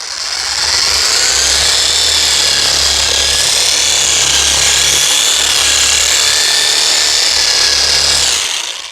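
A strap sander working a wooden staircase with coarse 80 grit abrasive, a loud continuous abrasive rasp over a steady motor hum, unbroken for the whole stretch with no talking.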